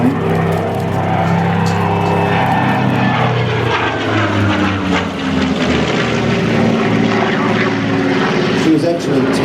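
A Spitfire Mk XVI fighter flies at Temora, New South Wales, its loud propeller engine droning continuously with shifting pitch as it passes fairly close, and a voice can be heard beneath the roar.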